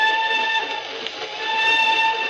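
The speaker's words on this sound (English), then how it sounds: "I always says there's nothing so lonely as a train whistle going along across country after everyone else is safe in bed." A steam train whistle blows a sustained, steady multi-tone note over a low rumble of the running train, a radio drama sound effect, briefly dipping mid-way before swelling again.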